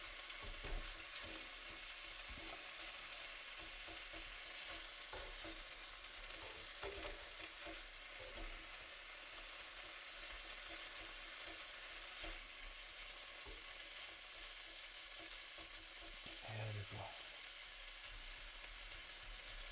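Steak and onions sizzling in a pan inside a campervan, a quiet, steady frying hiss with occasional crackles and a brief stir or clatter near the end, no voices.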